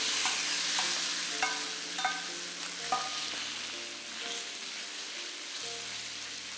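Pork stir-fried in hot oil in a pan: a steady, close sizzle runs throughout, broken by occasional sharp clinks and scrapes of a utensil against the pan.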